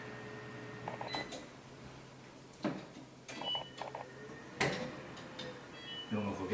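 A gas stove igniter on a newly replaced stovetop clicks in short, rapid bursts as the burner lights, with quieter sparse clicks between and brief talk nearby.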